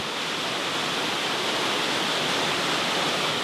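Water rushes continuously as a stream flows through a canyon, a loud, steady broadband roar with no other sounds.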